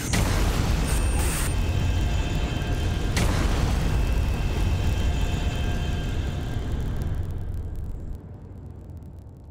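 A missile strike explodes and destroys a boss mech in Armored Core 6 Fires of Rubicon, a loud, sustained rumbling blast with a sharp crack partway through that fades and cuts off near the end.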